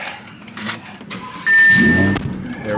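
An Audi R8 fires up beside an enclosed transport trailer, a sudden loud engine burst after a few quiet seconds of small mechanical clicks, then settling into a near, rumbling idle.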